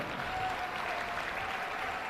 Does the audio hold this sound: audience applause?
yes